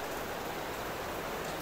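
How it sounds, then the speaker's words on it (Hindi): Rain falls steadily outdoors, a dense even hiss of drops with no pauses or voices, close and moderately loud throughout. "बारिश देखें, बारिश शुरू हो चुकी है, बड़ी मजे की बारिश।"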